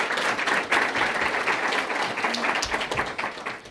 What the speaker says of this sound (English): so let's give them a round of applause also